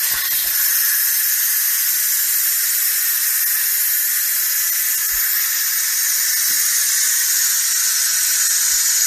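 Steam rushes out of a pressure cooker as it is released after cooking beans, a loud, continuous high hiss that runs steadily without a break.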